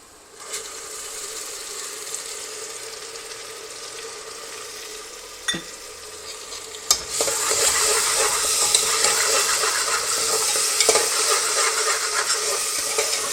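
Ginger, garlic and green chilli paste sautéing in a pan for a vegan biryani, a quiet sizzle with a couple of sharp utensil clacks, then a louder, brighter frying hiss that continues up close.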